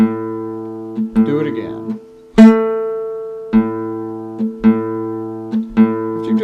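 A guitar plays the same short practice measure several times, with bass notes ringing out clearly in separate attacks and brief gaps between repeats. A voice speaks briefly between the passages.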